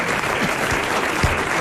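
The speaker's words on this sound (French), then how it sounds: "Et on l'applaudit, lui," A television game-show studio audience applauds a winning contestant, a dense steady wash of many hands clapping at close range, with faint voices mixed in underneath.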